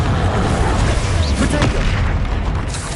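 Bombarda and Confringo explosion spells cast in the Hogwarts Legacy video game: a dense, continuous barrage of loud booming blasts and pops, close and unrelenting throughout.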